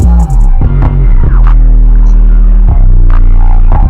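FL Studio hard trap beat run through a simple low-pass preset filter, with loud, muffled, bass-heavy throbbing and pulsing synth notes; the top end is dulled and the arrangement thins out and breaks down, with no voices.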